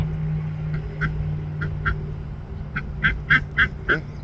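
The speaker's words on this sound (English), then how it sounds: "that duck was just dipping in the water and it did not turn it blue" A white and tan duck on a farm pond gives a series of nasal quacks, spaced out at first and then bunching into a quicker run of calls near the end, heard close over a low, steady background hum.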